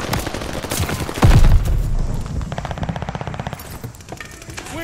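Rapid automatic gunfire at a contested hard point in Call of Duty Vanguard: a loud burst with a boom, then a steady stuttering stream of shots fading toward the end, with little speech.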